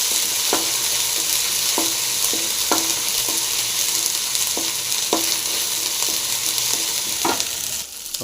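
Crushed garlic and ginger sizzle steadily in a hot pan, a continuous bright frying hiss with a spoon or spatula scraping and tapping the pan at irregular intervals, close and alone without talk.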